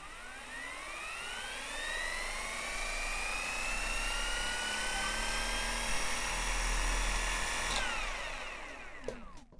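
A Genesis Hellfire electric scooter motor revs at full power with a loud, close electric whine that climbs steadily in pitch and holds, then cuts off sharply and spins down.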